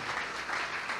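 Brief burst of congregation applause during a Spanish-language evangelical church service, steady and dense clapping filling the whole moment with no voices on top.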